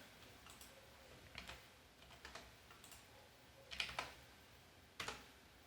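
A computer keyboard typed on while editing an Excel spreadsheet, giving scattered soft key taps with a few short, clustered bursts of clicks, quiet and close with no speech.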